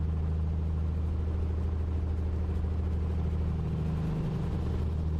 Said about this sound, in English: we can tell that something's wrong with the engine because it just doesn't sound good